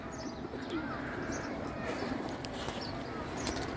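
Kaldom pigeons in a collection coo softly amid a dense, continuous background hum and rustle, with a few faint higher chirps scattered over the few seconds.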